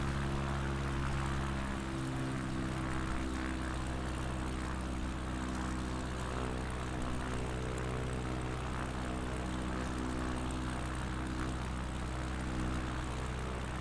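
Propeller bush plane in Microsoft Flight Simulator 2020 on a Patagonia bush flight, its engine droning in a steady, even cockpit hum throughout with no talk.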